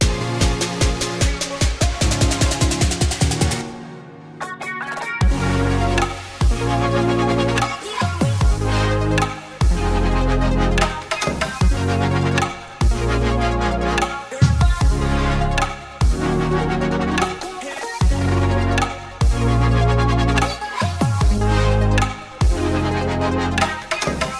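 A future bass track at 150 BPM with punchy bass hits and bright layered synths in a driving rhythm, loud and alone; a brief dropout near the start.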